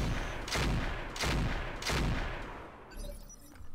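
Weapons fire in the Roguetech BattleTech video game, with three loud, dense bursts of booming shots at roughly even intervals, followed by a quieter tail.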